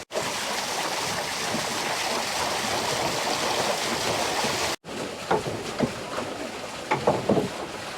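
Water flowing steadily through the wheel-driving mechanism of a traditional water wheel at Edo Wonderland in Nikko, Japan, a continuous rushing wash that briefly cuts out and then returns with splashy, gurgling bursts.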